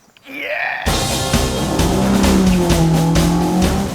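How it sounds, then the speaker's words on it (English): Classic race cars at the Prescott hill climb, a twisting uphill course, with an engine bursting in loud and close and then a sustained roar with squealing tires. "This is the Prescott Hill climb, where since the 1930s drivers have raced the twisting course from bottom to top as fast as they can"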